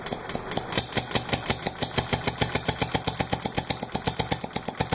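A weed eater two-stroke engine converted to run on steam chugs steadily with rapid, evenly spaced exhaust pulses, loud and close, with no voices.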